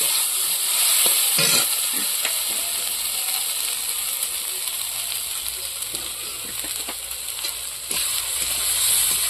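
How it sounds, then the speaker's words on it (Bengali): Spice paste fries in a pan with a steady, close, bright sizzle. Occasional stirring clicks and scrapes sound through it, and there is no talking. "মশলাটা দিয়ে মিশিয়ে নিয়েই জল দিয়ে দেবো"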